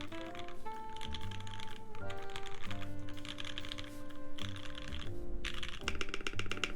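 Clacky keystrokes rattle steadily on a computer keyboard while someone types, with deeper thocks from spacebar presses mixed in. The typing is close and continuous, with no talk.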